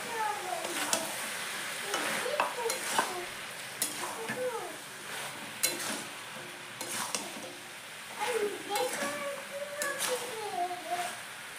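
Potatoes that were soaked in water drop into a pan of chicken curry with bamboo shoots, raising a steady, fairly loud sizzle and frying crackle with occasional stirring and utensil clinks, while a person talks over it.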